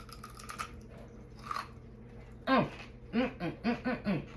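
Someone bites into a thin, crisp Italian lace cookie, producing a crisp crunch followed by a quick series of close, loud chewing crunches with a brief chuckle and little else around it.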